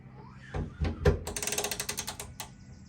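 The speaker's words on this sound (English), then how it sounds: "Grab your ratchet." A ratchet backs out a screw on a Ford Bronco II vent window, first a few dull knocks, then a fast run of crisp, close pawl clicks that ends in one last click, quiet and without talk.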